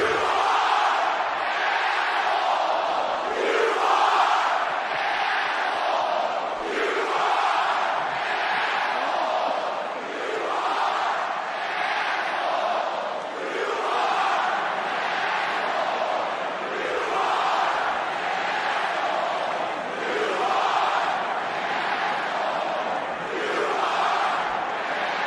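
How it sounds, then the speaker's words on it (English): A wrestling arena audience in Denver, Colorado chants and screams at Austin Theory in rhythmic, swelling waves, a dense roar of crowd voices filling the hall without pause. "the entire fucking audience screaming at Austin Theory"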